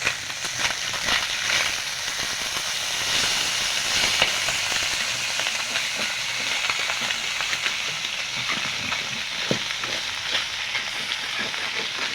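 Chanda fish sizzle in hot oil in a wok after being flipped. The frying hiss is steady and close, with small crackles and pops throughout and no talking.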